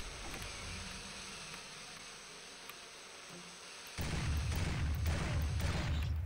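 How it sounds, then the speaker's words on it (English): Buzzing insect swarm of bees in the video game Turok 2, a steady drone that grows louder and denser halfway through, with no talking. "The bees get everything."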